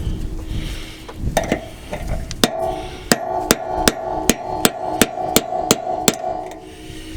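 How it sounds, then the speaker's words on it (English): Hammer tapping the splines of a caravan wheel hub home, a series of about fifteen sharp metallic knocks, irregular at first and then settling into a steady, evenly spaced rhythm. "we just need to tap the splines home"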